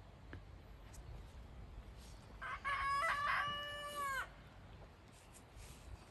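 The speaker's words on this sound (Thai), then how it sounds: "ไก่มันเรียกแล้ว" A rooster crows once in a long, drawn-out call lasting about two seconds. It sits mid-distance over a steady background hiss, with no talk.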